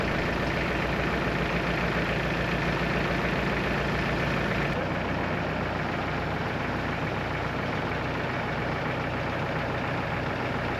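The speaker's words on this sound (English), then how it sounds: "We started the little Massey to move the hay bale out of the way." Small Massey tractor diesel engine running steadily in the cold after a glow-plug start without the block heater, a continuous close rumbling idle with no talking.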